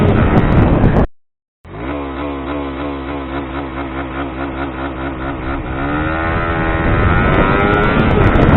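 A Suzuki GSX R150 motorcycle with a Juken 5 Racing Turbo exhaust, revving hard with a loud, sustained buzzing drone. The engine cuts out briefly after about a second, then holds steady and climbs again near the end.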